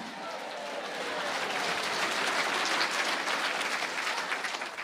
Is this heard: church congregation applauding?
yes